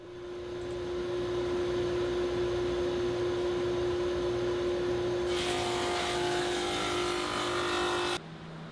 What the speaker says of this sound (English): With a dado stack and my saw, I cut rabbets on opposing edges of the boards.